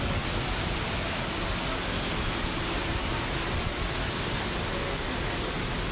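Heavy rain pours steadily as a dense, even hiss, loud and unbroken for the whole stretch, with no voices over it.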